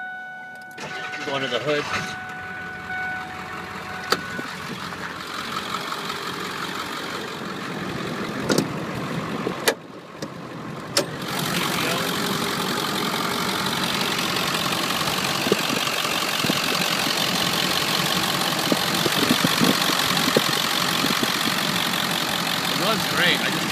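A 2001 Ford F350 dually 4x4 diesel is started with a short crank and a catch, then settles into a loud, steady, rattly idle. Someone talks over the engine before and after it fires.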